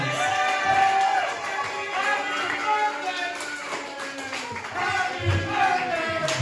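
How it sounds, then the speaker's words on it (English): Wrestling crowd at a pro wrestling show claps and cheers in a birthday round of applause, a dense steady patter of hands mixed with whoops and crowd voices throughout, with some faint talk underneath. "let's give him a big happy birthday round of applause."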